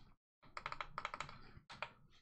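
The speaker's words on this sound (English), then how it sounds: "Keyboard." Rapid bursts of computer keyboard typing in clusters of clicks, close and fairly loud, separated by brief pauses, with no talking.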